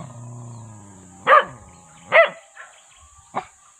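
A dog barks three times, loud and close, in sharp separate bursts spaced about a second apart, over a faint steady high hum.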